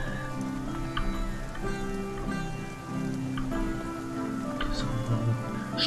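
Steady rain patters over the background music in the video game Spiritfarer, a continuous wash of drops running throughout at moderate loudness.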